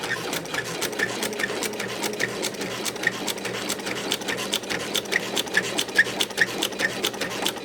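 A sewing machine stitches along a line on a foundation paper-pieced potholder with a fast, steady, close mechanical chatter of needle strokes, running continuously without pause.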